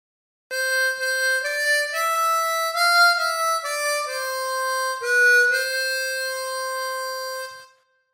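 A sustained reedy harmonica melody, Danny Boy, with rich overtones, notes stepping up and down in a steady phrase, played alone and fairly loud for several seconds.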